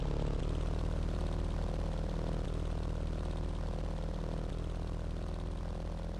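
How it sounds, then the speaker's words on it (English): A Dynam Primo RC model airplane in flight, its electric propeller giving a steady, loud, unbroken buzzing drone that holds level for the whole stretch with no talk. "Got the airplane taken off."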